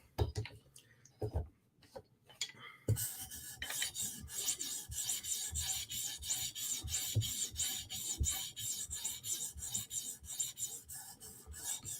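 Rasping strokes of a Chris Reeve Sebenza tanto knife blade on a 400 grit sharpening stone, working toward a matte satin finish; steady repeated back-and-forth scraping, close and fairly loud, after a few sparse taps at the start.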